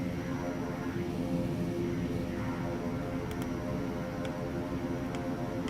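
A King Air turboprop in the X-Plane 12 flight simulator hums in a steady, broadband drone with a constant tonal whine, unchanging and fairly loud throughout, with a few faint clicks on top.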